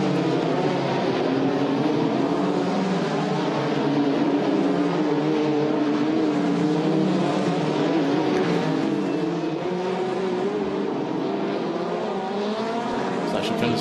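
Formula Renault Eurocup race cars roar around Spa-Francorchamps in a steady, loud wash of engine noise with rising and falling tones, under continuous race commentary.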